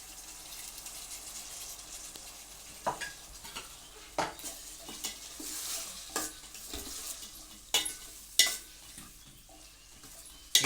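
Garlic curry with ginger, coriander seeds, cumin and masala fries in a pan, a steady low sizzle under repeated scraping and stirring knocks of a utensil, with a few sharper clinks near the end.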